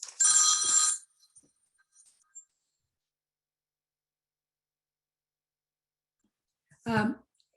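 A mobile phone rings once in a short, bright burst at the very start. Long quiet follows, then a brief spoken voice near the end.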